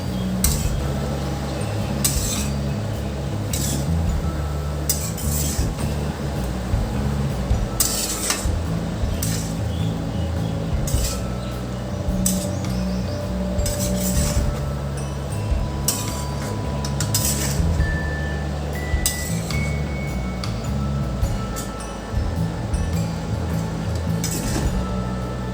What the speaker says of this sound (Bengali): নুন মিষ্টিগুলো ভালো করে এর সঙ্গে মিশিয়ে নিচ্ছি